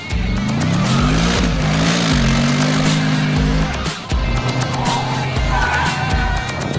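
Mercedes-Benz McLaren SLR Stirling Moss roadster driven hard into a corner with oversteer, its engine note loud and close, rising and falling steadily before a brief dip and renewed pull.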